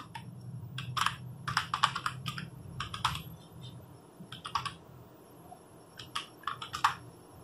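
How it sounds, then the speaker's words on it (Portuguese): Someone types a username and password on a computer keyboard, a close run of quick key clicks in short bursts with brief pauses between them, and no talking. "estou digitando meu usuário e minha senha corretamente"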